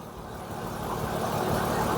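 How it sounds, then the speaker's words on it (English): An air-conditioning compressor runs under the hood of a Toyota Sienna, a steady low mechanical hum and drone that grows slightly louder over two seconds, heard close with no talking. "The compressor is running."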